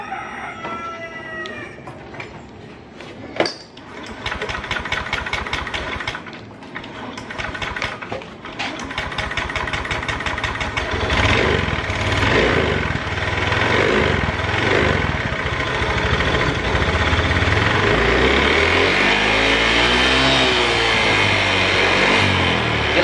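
A Honda Beat scooter blowing thick white smoke is started and left idling, then revved. The engine runs loud and close with a busy mechanical clatter, and the revs rise and swell in repeated waves toward the end.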